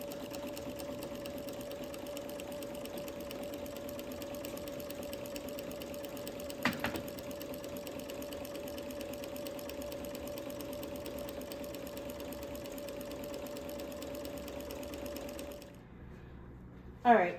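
A sewing machine runs steadily as it stitches fabric along a red guide line, with a back stitch worked in, a brief clunk partway through and the motor stopping near the end.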